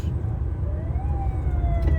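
A police siren wails faintly in the distance on the Bucharest ring road in Romania, its tone sliding up and down over steady traffic rumble.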